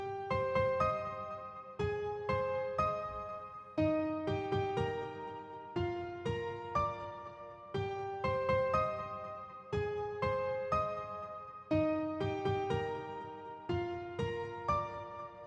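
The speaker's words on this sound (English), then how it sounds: "It is grand piano octave." A grand piano sound in FL Studio plays a repeating gospel melody in bright octaves over a low accompaniment, steady rhythmic phrases looping evenly throughout, no voices.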